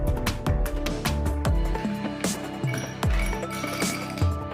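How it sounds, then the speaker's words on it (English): Ice cubes clatter into a glass while a Caribbean Blue cocktail is being built, giving a quick run of bright, close clinks and knocks over a few seconds with no talking. "Now fill the glass with lots of ice cubes."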